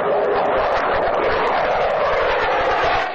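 A Sukhoi Su-27 fighter jet flies, its powerful engine giving a loud, steady broadband roar that holds at even strength throughout before easing slightly at the very end.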